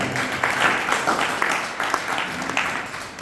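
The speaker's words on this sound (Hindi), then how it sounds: "किसने अच्छे से ताली नहीं बजाई?" Applause from a gathered audience at a religious discourse, several sharper bursts of clapping standing out from a general patter that gradually fades toward the end.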